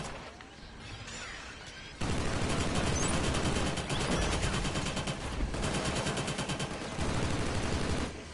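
Dense rapid gunfire in the multiplayer shooter Killzone Shadow Fall, starting quieter then bursting into loud sustained automatic bursts with crackling shots and impacts that run almost continuously.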